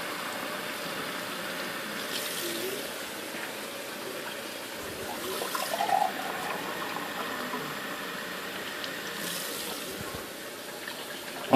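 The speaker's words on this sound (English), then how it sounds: "pour some water" Water is poured into a pot of Spanish rice and tomatoes on the stove, making a steady, moderately loud hiss and splash that continues evenly for several seconds.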